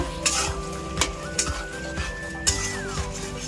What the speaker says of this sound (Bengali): যত ভালো করে কষানো হবে তত খেতে টেস্টি হবে।